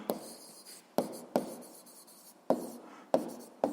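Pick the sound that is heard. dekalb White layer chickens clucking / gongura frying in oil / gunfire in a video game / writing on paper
writing on paper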